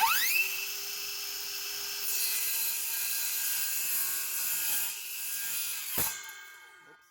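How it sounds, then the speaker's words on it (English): A saw slits a piece of wood held loosely clamped in a block to make a tool handle, a steady close whining cut running for several seconds, then a sharp crack near the end before the sound trails off. "I'm gonna use this saw to slit it"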